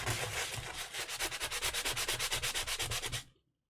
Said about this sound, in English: You can take any sort of fine grit sandpaper or a nail file, and you're just going to go over the tops.